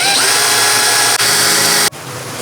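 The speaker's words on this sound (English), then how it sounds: "Never did I ever think I would start drilling into this hood" A power drill whines loudly as it bores into a Ford Mustang's hood, a harsh high-pitched screech that cuts out briefly near the middle and then stops, leaving only quieter room sound.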